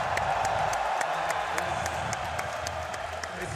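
An esports watch-party crowd cheers and applauds steadily, a continuous wash of clapping and shouting that keeps up at even loudness from start to finish.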